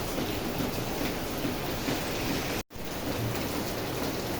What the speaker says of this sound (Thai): ฝนตกหนักตั้งแต่เมื่อคืนแล้วนะครับ เนี่ยไม่หยุดเลยนะครับ